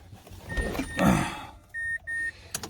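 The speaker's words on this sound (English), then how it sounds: "I got beeping." A muffled rumble and shuffling, then two steady electronic beeps in quick succession, sharp and fairly loud, with a brief clatter after.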